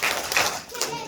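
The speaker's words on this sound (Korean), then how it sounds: "박수 세번 시작!" Children at a church Sunday school service clap in three quick bursts, close and fairly loud, with light child chatter mixed in.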